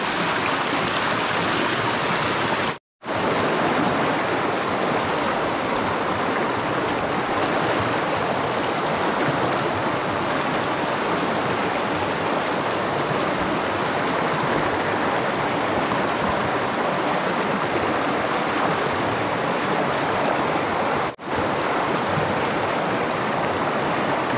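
Steady, loud rush of a flowing river, continuous and close, with one brief dropout early on and no voices.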